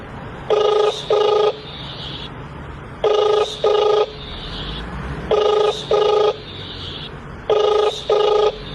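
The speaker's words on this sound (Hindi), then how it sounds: "तभी भोला बिना देर किए तुरंत अपने फोन से सेठ जी को कॉल लगा देता है।" A telephone ringback tone repeats four times, each a pair of short electronic rings followed by a pause, steady and clear with no talking.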